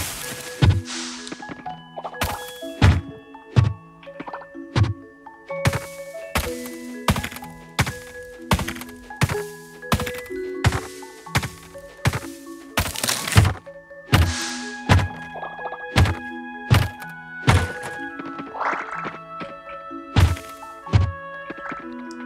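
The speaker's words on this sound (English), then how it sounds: "Give you all some farm clearing ASMR noises." A pickaxe clears a farm in the video game Coral Island, giving repeated sharp thunking strikes roughly every second, loud and close, with ringing chimes and small game effects between hits and no talking.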